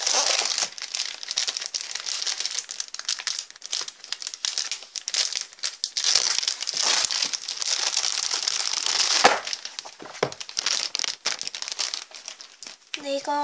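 Crinkly plastic-wrapped packs of wrapping paper sheets being torn open and handled, a dense run of crackling, crumpling bursts close by, with a voice speaking briefly now and then.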